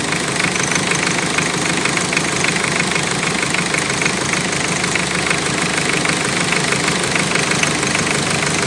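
A hard-starting Toyota 1C diesel engine runs rough and shaky, a loud, constant, close-up clattering knock with dense mechanical noise and no pauses or voices.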